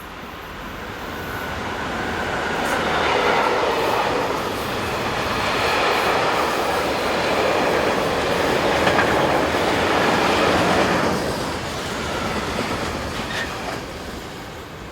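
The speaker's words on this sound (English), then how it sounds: "185-286 rounds the curve on train EZ 44690 from Linz in Austria to Gremberg Yard in Köln" Freight train EZ 44690 from Linz to Gremberg Yard in Köln, hauled by locomotive 185-286 around a curve, gives a loud, steady rolling rumble of mixed wagons with faint wheel clatter and squeal throughout.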